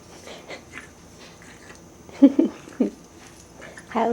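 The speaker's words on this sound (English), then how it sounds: "How snorty can one dog be?" A bulldog snorting and snuffling in short, irregular bursts, close by, with a couple of louder huffs; quiet gaps between them.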